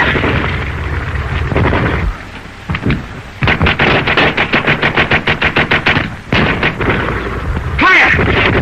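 Sustained heavy gunfire in a fictional battle scene: a long, loud, rapid rhythmic burst like a machine gun, with rumbling blasts before it and a few scattered shots and booms after.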